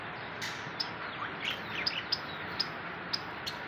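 Pet finches in a mini zoo, chirping in short, sharp, high tweets scattered over a steady background hiss, several calls in quick succession at moderate distance.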